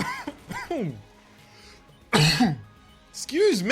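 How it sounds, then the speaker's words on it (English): A man coughs and clears his throat, with short throaty bursts near the start and a harsher, louder cough later, interleaved with bits of his own voice. "I managed to breathe in a way that actually started to make me cough."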